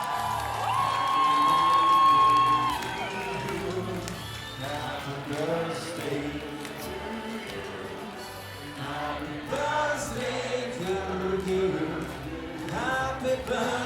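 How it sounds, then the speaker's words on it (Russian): A club audience cheers, whoops and claps at a birthday celebration, a loud crowd of mixed voices and shouts with some clapping underneath. "я хочу, чтобы аплодисменты не смолкали"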